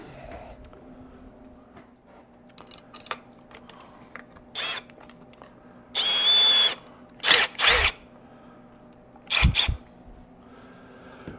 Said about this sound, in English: All right, I've got to go get a drill.